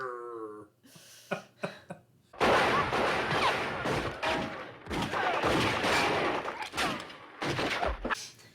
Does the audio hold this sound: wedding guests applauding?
no